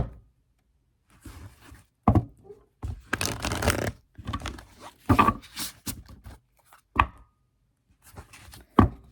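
Tarot cards shuffled by hand in bursts of riffling and flicking, with short sharp slaps between quieter gaps, close and distinct with no talking.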